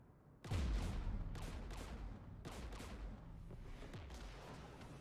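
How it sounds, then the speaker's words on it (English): Gunfire in the Mass Effect 3 game as Geth forces fire near a jamming tower: a heavy blast opens, followed by repeated loud shots and booms at irregular intervals over a rumbling battle din. "We're taking fire."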